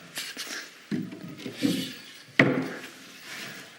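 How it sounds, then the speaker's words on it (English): A plywood panel is slid into place inside an interior column frame. A few soft wooden rubs and knocks are heard close by, with one sharper bump near the end. There is no talk. "Now I'm just going to slip this plywood panel in."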